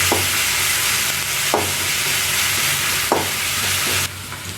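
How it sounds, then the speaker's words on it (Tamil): Ginger and garlic sautéing in oil in a pan for a drumstick and potato kurma, a steady close sizzle broken by a few sharp scrapes of stirring. "இப்போ இஞ்சி பூண்டு இஞ்சி பூண்டு போட்டு வதக்கலாம்"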